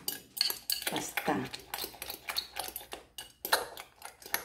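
A utensil whisks eggs in a bowl for a Korean egg roll, producing quick, rhythmic clinking taps against the dish, close and fairly loud, steady throughout.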